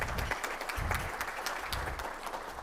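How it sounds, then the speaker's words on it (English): Audience applause at a public safety summit, a steady, moderately quiet patter of many hands clapping continuously throughout the short stretch. "Give her a round of applause."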